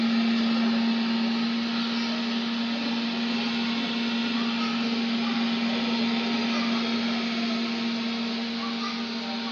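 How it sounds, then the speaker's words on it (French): Automatic hand-washing device's hand dryer blowing steadily, a loud continuous whir with a fixed motor hum that runs unchanged throughout, with no voices. "vous avez un sèche-main qui commence à sécher les mains."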